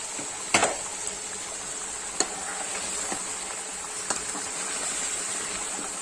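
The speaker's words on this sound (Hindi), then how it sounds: "अब इसकी अच्छे से बुनाई कर लेंगे" Beef trotter masala with green chillies is stir-fried in a pan, giving a steady, quiet sizzle with a few scattered scraping clicks from stirring. No voices are heard.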